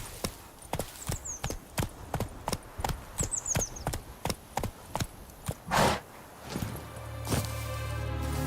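Roach the horse trotting in The Witcher video game, a steady run of crisp clip-clop hoofbeats close by, followed by a whinny-like burst, then a low droning rumble near the end.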